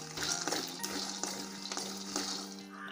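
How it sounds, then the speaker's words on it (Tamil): Peanuts roast in a pan over medium heat, giving a steady dry sizzle broken by a few soft scrapes and clinks of stirring, close and continuous with no voices. "மல்லாட்டையை வறுத்துக்குங்க. 1-2 மினிட்ஸ் ஆகும். கொஞ்சம் மிதமான தீயில் வச்சு"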